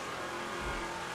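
Racing game car engine, a steady faint motor hum with a brief low swell near the middle, no voices.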